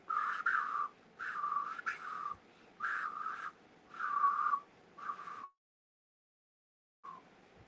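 A person whistles a short tune alone and close, in six phrases with small gaps between them, then goes quiet for over a second before one faint last note.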